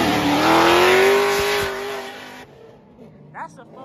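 A supercharged LSX-swapped Nissan 240 drifts with a loud, rising engine rev and supercharger whine that builds for about two seconds, then cuts off abruptly, followed by crowd noise and a voice.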